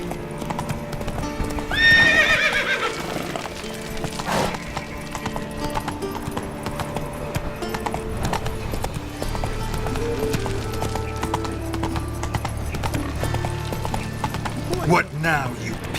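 Roach, the horse in The Witcher 3, gallops with steady hoof clip-clops and lets out a sharp neigh near the start, with game music and voices in the background.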